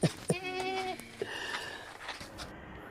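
A weak, feeble goat gives a wavering bleat close by, one drawn-out quavering cry after short sharp knocks, followed by faint outdoor background noise and scattered small sounds.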